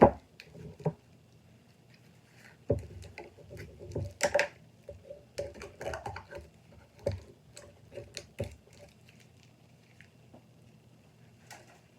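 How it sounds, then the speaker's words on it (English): A stick stirs a two-part mold-making mixture in a plastic cup, giving faint, scattered scrapes, taps and soft squishy clicks that come and go over twelve seconds in an otherwise quiet room. "Stir it around."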